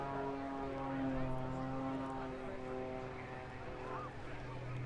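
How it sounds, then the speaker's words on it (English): A display aircraft fitted with two added Lynx turbine engines roars steadily overhead at an airshow, a sustained droning engine tone with layered harmonics holding for several seconds. "just showing how effective the addition of those two little Lynx turbine engines are"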